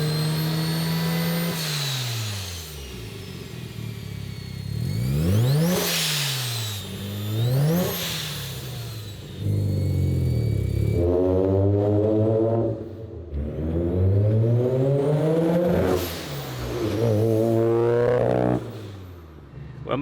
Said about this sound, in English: The turbo should sound a little bit better. Yeah, listen to that turbo.